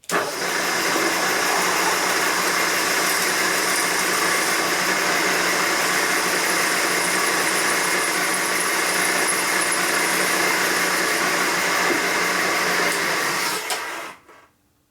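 A drill bores through a 1966-74 Harley-Davidson shovelhead cylinder head for a helicoil repair, giving a loud, steady, close whine that runs unbroken for about fourteen seconds, then cuts off.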